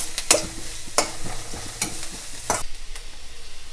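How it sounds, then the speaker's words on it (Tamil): Chopped onion, green chili and curry leaves sizzle steadily in a pan as the mixture is stirred for rice roti, with a few sharp scraping clicks of a spatula over the constant frying hiss, and nobody speaks. "கொஞ்சம் நேரம் வதக்கிட்டு"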